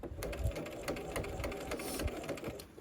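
A sewing machine stitches through thick quilted fabric for a romper, a close, fast mechanical rattle with steady needle clicks and a few heavier thumps.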